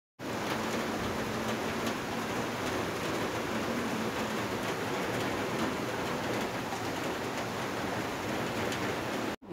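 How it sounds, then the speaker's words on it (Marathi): Heavy monsoon rain pours outside a home kitchen as a dense, steady hiss that holds even and loud throughout, with no voices. "बाहेर एवढा छान आणि जोरदार पाऊस चालू होता"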